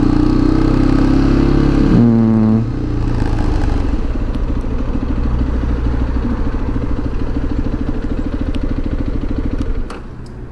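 A motorcycle engine runs steadily close by while the rider parks at a hotel in Turkey, a brief revving pitch shift near the start, then a constant idle rumble that cuts off at the end.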